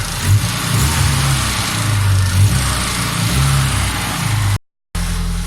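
A truck engine runs steadily close by, a low rumbling idle with slight rises in pitch, briefly cut out near the end.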